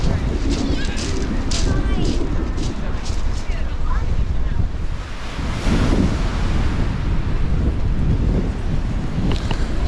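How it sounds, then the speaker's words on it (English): Strong wind buffets the microphone on the Devon coast, with choppy sea surging steadily underneath; it is loud and continuous, and a person talks over it. "Nice view and all, but man, it's bloody windy and cold."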